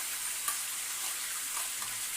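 Chicken sautés in a hot pan in a home kitchen, giving a steady, close hiss of frying with faint stirring clicks and no talking.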